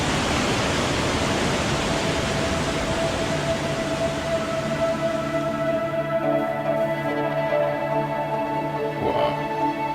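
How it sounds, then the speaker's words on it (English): A waterfall on a tropical hillside in the Philippines roars steadily as a broad, constant wash of rushing water, loud and close, with a few faint tonal hums running underneath. "that's the waterfall over there"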